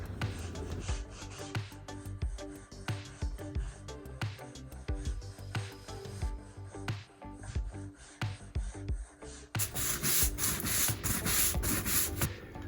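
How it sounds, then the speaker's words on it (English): Wooden deck boards are scrubbed with OxyClean, a close, repetitive rasping brush sound in quick strokes, ending in a louder, denser stretch of scrubbing. "It's time to scrub."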